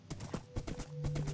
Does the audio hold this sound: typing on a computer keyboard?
no